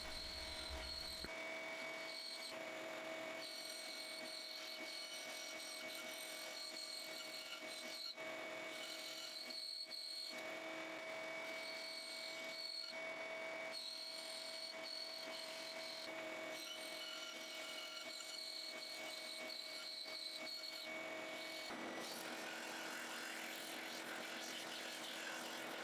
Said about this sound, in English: So over here at the bandsaw to cut them out.